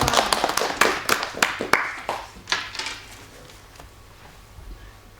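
A classroom of students claps hands together in a burst of sharp, overlapping claps lasting a few seconds, loud at first and then fading into quiet room tone.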